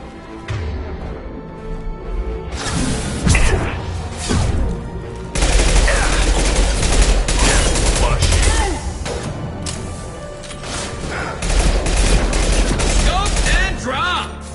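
Rifle fire in Mass Effect 2, rapid bursts of loud shots coming in waves over the whole stretch, with a short lull near the start and game effects and a voice mixed in.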